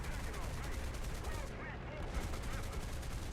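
Machine guns of an F6F-5N fighter plane in War Thunder rattle in a steady, dense stream of rapid fire, loud and close, continuing for a few seconds with no pauses.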